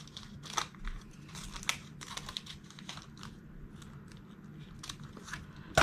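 Scissors cut the flap off a plastic die sleeve with close, irregular snips, crinkles and crunches of thin plastic. One sharper rustle comes at the end.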